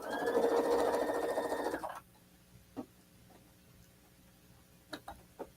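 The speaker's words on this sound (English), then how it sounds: "I'm sewing 1/4 inch away from that center line" A sewing machine runs a seam a quarter inch from a center line, a close steady whir for about two seconds that stops abruptly, followed by a few faint clicks and taps of handling.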